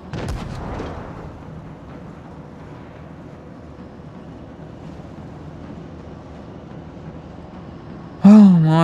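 A tank cannon fires in World of Tanks Blitz, a single heavy booming shot up front that rolls off into a long low rumble, followed by another sharp burst near the end.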